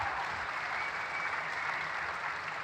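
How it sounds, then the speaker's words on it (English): Steady, dense applause from a premiere panel audience for a Gerry Anderson's Firestorm screening, filling the room evenly and continuously without a break. "Let's give them a round of applause, please."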